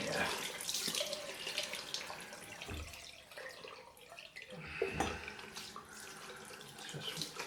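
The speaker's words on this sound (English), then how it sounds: "Cold water." Cold water runs steadily from a tap during a head rinse after a shave, a soft continuous splashing stream with small bursts where it hits the head and basin.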